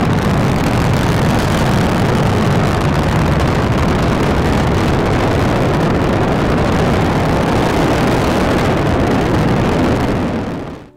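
A rocket engine in Kerbal Space Program, modified with the Hot Rockets mod, gives a loud, continuous, full-bodied roar that holds steady for about ten seconds before quickly dying away.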